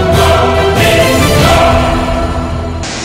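Jamjor waterfall in Gir Somnath, Gujarat, roars in flood after heavy rain, a loud, dense and continuous wash of rushing water that fills the whole stretch with no voices.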